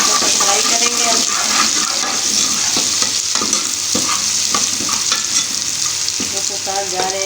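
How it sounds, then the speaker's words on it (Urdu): Ginger and garlic frying in a pan for aloo methi, a steady loud sizzle with spoon-stirring scrapes running throughout, close and continuous. "اس میں ادرک اور لہسن جو ہے تھوڑا سا فرائی کریں گے ہم۔"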